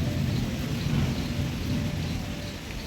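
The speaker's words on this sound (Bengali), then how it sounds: "কি বৃষ্টি হচ্ছে" Heavy rain pours down with rolling thunder, a steady dense hiss over a deep continuous rumble, close and loud, with no one talking.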